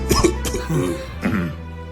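A father coughing at home, a few harsh, close coughs and throat-clearing bursts in quick succession, with some voiced breathy sounds between them.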